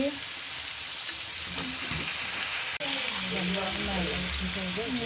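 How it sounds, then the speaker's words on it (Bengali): Pasta sauce fries and gets stirred in a pan, a continuous crackling sizzle with scraping stir strokes and a brief dip partway through, close and fairly loud. "আবার একটু নাড়াচাড়া দিয়ে দিচ্ছি।"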